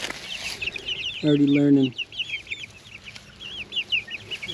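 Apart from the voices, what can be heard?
meat chickens clucking on pasture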